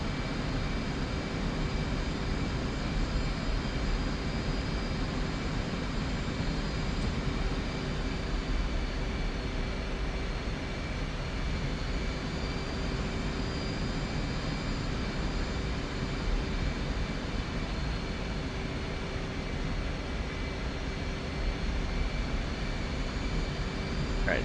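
F/A-18 jet in DCS World flying at low speed, a constant droning engine roar with a faint steady whine, unchanging throughout and with no talking.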